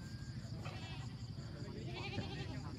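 Young goats bleat at a busy goat market in the Northwest highlands of Vietnam, their calls rising over a steady murmur of livestock and people, with someone talking nearby.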